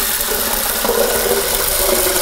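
A blender whirs loudly and continuously at close range, blending birdseed and sunflower seeds with water, its motor pitch shifting slightly as it churns.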